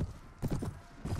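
Hooves of an armored horse in the video game Mount & Blade: Anno 1257 clop in a few quick, close, uneven clusters over about a second.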